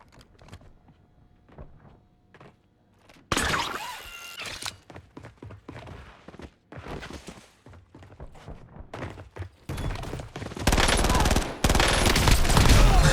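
Close-range fire from a fast-shooting 30-round SMG in the video game Warzone, loud rapid bursts separated by quieter thumps and movement, with a long sustained burst near the end.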